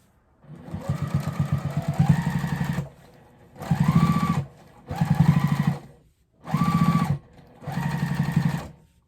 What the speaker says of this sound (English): Turn on the machine.